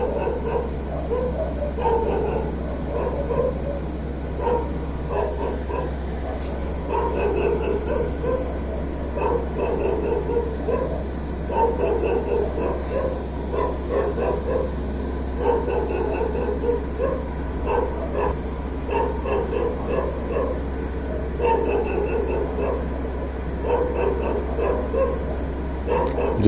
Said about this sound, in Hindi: ये देखिए कुत्ता भौंक रहा है बहुत ज्यादा।